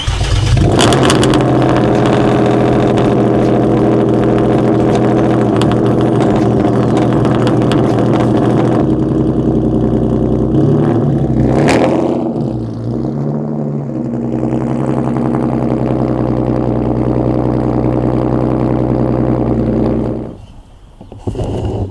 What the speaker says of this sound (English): we need to get a cold start first